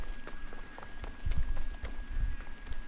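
A horse trots along in Assassin's Creed Odyssey, its hooves giving a steady run of muffled clip-clops close by over a continuous game ambience with a faint steady tone.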